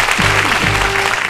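A quiz show studio audience claps after a correct answer, a brief, loud burst of dense applause with a sustained tone running underneath it.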